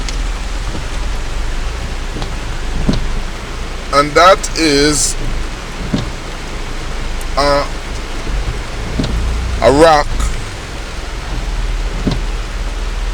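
Rain pours beside a river in a loud, constant rushing wash with a low rumbling undertone, while someone speaks in short bursts over it.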